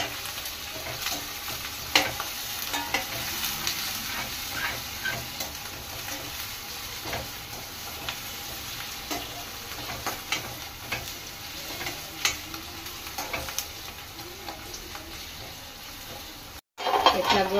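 Onions and chicken frying in a pan for chicken curry, a steady close sizzle with occasional stirring scrapes and clinks running throughout.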